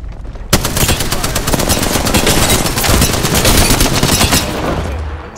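Loud, sustained automatic gunfire in the battle royale game Apex Legends, rapid rattling shots pouring out almost without pause for several seconds before cutting off.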